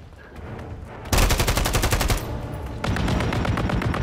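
Loud, close automatic gunfire in Call of Duty, a rapid burst of shots followed by a brief lull and then another sustained stream of fire.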